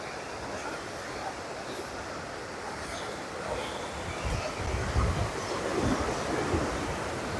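Sea waves washing in along the Worli coastal promenade in Mumbai, a steady broadband roar with surges of surf growing stronger in the latter half, mixed with wind noise and no talking.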